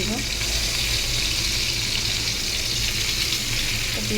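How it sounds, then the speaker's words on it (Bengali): Hilsa fish oil heats in a pan on the stove, giving off a loud, continuous close sizzle that holds steady with no breaks. "খুব সুন্দর করে ভাজতেছি একটু কড়া করে।"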